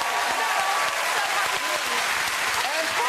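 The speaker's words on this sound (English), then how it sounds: "a round of applause for all those drummers" Dense, sustained applause from a TV talk show studio audience for a group of drummers fills the whole stretch, with faint voices mixed underneath.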